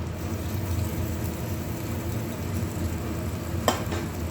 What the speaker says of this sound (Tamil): இந்த மோரை எடுத்து இதில் சேர்த்துருவோம்